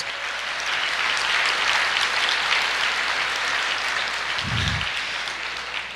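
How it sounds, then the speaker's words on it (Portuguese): A church congregation applauds during a Portuguese-language sermon, a steady dense wash of many hands clapping at moderate loudness for the whole stretch, with a brief low thump near the end. "pode aplaudir, pode aplaudir."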